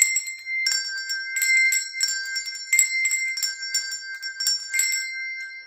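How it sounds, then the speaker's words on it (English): Handbells ring in a steady series of bright, clear strokes, each tone lingering and overlapping the next, with no voices. "We also have things like handbells."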